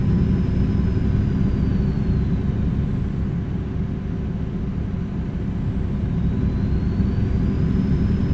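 A truck engine in a video game drones at a steady, loud, continuous rumble, holding a constant pitch with a slight dip in revs midway and no voices over it.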